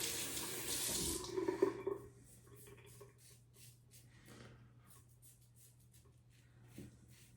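A tap runs strongly for rinsing for about two seconds and then shuts off, leaving faint drips, light handling noises and a low steady hum.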